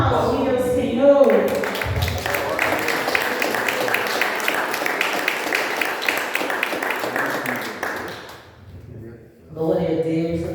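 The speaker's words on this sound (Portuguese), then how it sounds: "Você pode aplaudir ao Senhor" Congregation applauding during a church service, a dense wash of clapping sustained for several seconds before fading, with voices and music heard around it.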